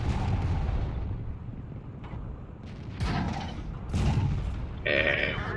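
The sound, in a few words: tank cannon firing shots in the video game World of Tanks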